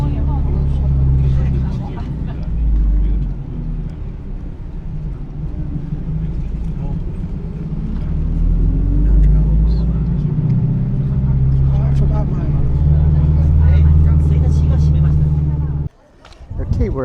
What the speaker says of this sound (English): We have to board a shuttle bus to the rim of the crater.